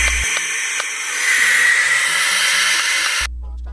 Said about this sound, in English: Barn owls also hiss when they feel threatened.